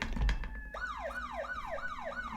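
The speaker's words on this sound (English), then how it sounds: "There's actual sirens outside." After a brief low thump, a siren wails outside in repeated rising-and-falling sweeps, clear and steady.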